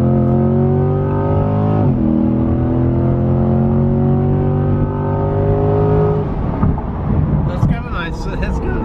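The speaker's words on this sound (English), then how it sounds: "Time to full send." A 2020-2021 Corvette C8 fitted with LTH cats exhaust accelerates hard, close and loud. Its rising engine note climbs steadily, dips briefly at a shift, then breaks into a rougher roar with wind buffeting.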